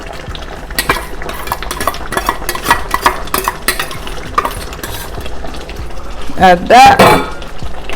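Palm oil hits a pan of cooking mango sauce, sizzling with stirring and utensil scrapes throughout, rising to a louder burst near the end, while a voice speaks briefly.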